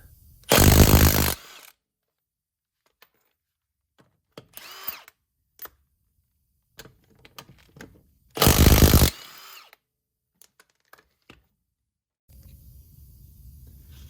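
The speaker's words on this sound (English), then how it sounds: "And now I'm just going to use my impact gun." A 2017 Yamaha Viking has a tire removed with an impact gun on a 19mm socket. Two loud, close rattling bursts about a second each are separated by quiet stretches with small clicks and handling noises, and a steady hiss comes at the end.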